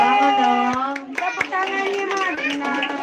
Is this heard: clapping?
yes